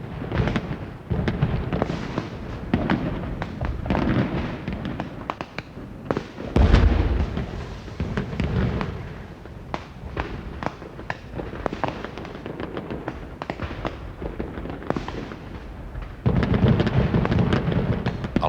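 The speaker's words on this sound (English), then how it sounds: "Along with the fireworks" Night fireworks at the Edinburgh festival in Scotland boom and crackle across a long run of bursts. Some heavy thuds stand out among rapid popping and fizzing, loud and echoing with no one speaking.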